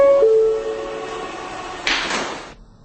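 In the video game Subway Testing Remastered, C-train subway doors close with a rushing hiss after a brief chime-like tone, near and fairly loud, then fall quiet.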